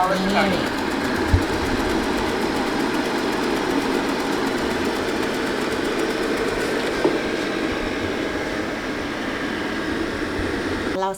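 A Xiaomi Mi Robot Vacuum Mop Essential starts cleaning a room, giving a steady mechanical whir and motor drone that runs evenly throughout while someone talks over it.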